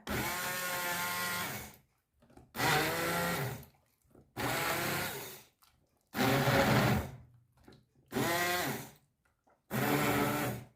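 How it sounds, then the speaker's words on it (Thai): An electric blender purees boiled carrots and potatoes for soup, whirring in six separate bursts of a second or two each, with short silent pauses between them, close by and fairly loud. "ต้มสุกก็เอามาบดเลยจ้ะ"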